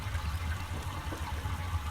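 Water pours and trickles through a pipe in the video game Myst once a faucet knob is turned, a steady low gurgling flow heard alone.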